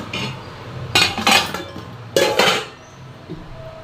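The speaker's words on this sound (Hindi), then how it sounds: "तब तक मैं बर्तन धो दूँ। थोड़े से बर्तन है" Dishes and pots clink and clatter in a few quick bursts as they are washed, close by, with metallic knocks between quieter moments, during heavy rain.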